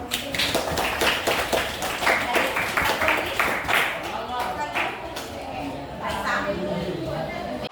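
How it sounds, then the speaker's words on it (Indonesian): A classroom group claps for a student named Feby during a school lesson, with crisp, separate hand claps for about four seconds that then thin out and fade while a voice speaks over them. "Tepuk tangan buat Feby"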